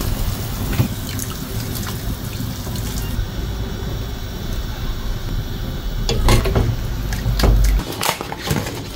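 Tap water runs steadily into a sink while spinach is rinsed, a continuous close splash that grows louder and more turbulent with handling toward the end.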